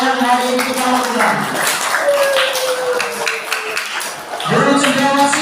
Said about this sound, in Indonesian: beri tepuk tangan pada kita semua atas acara yang hari ini kita lakukan